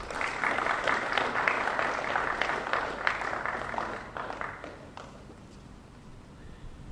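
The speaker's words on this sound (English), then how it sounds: "How about a round of applause for Mayor Rick Blangiardi?" An outdoor crowd at a parking-lot event claps for Mayor Rick Blangiardi in a dense burst of applause that thins and fades away over the last few seconds.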